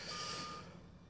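Reversing beeps from a vehicle putting up a large tent at a polo ground, a steady high electronic tone sounding over broad noisy rumble, fading slightly toward the end.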